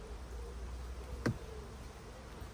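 Honeybees buzz around a hive super, a faint continuous hum in the outdoor background, with a brief louder buzz as a single bee passes close by.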